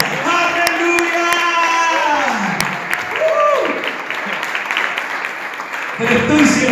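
A church congregation applauds during a sermon. The clapping sounds scattered and fairly loud and sits under sung or sustained vocal tones and some talk from the stage.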